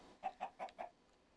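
Chickens cluck in a Minecraft game, four short evenly spaced clucks in quick succession, fairly faint, then a brief quiet tail with no talking.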